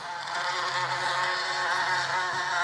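Toy 'Wasp' helicopter device buzzing like a bee, a continuous high whirring drone with a slightly wavering pitch, close and steady throughout with no talk.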